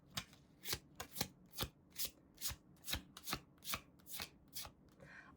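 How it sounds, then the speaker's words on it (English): Tarot cards being shuffled and handled: about a dozen crisp, papery riffle-snaps in a steady, close rhythm, with no talking. "let's pull some more tarot cards and see what else we have going on here for you guys"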